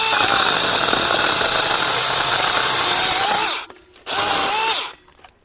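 TomyVic mini battery chainsaw cutting through a wood branch, a loud high buzzing whine held for several seconds, cut briefly, then a second short burst before stopping.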